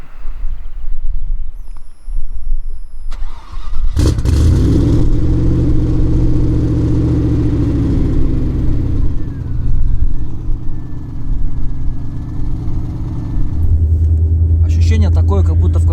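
A heavily modified 1175 hp Audi S4 C4 with a turbocharged 4.2 V8 drives on the road, its loud deep rumbling engine note rising and holding, with someone talking over it throughout.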